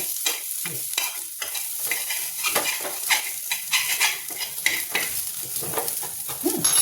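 Curry leaves crackling and sizzling in a small amount of hot ghee in a pan over low heat, a steady close frying hiss broken by sharp spattering pops and occasional stirring scrapes.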